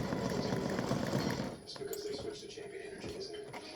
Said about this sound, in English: now color stop number 11 starts stitching the text down here in the bottom